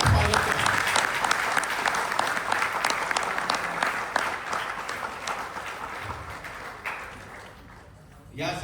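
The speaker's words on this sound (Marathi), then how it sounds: "त्यांच्यासाठी जोरदार टाळ्या" Audience applause at a stage programme of dance set to songs, sustained and fairly loud throughout, thinning slightly toward the end.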